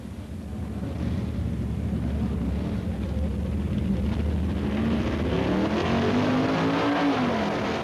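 Super Stock drag racing cars at Bee Line Dragway in Arizona roar as one loud, sustained engine drone, with the pitch sweeping upward as a car accelerates down the strip, and no talk over it.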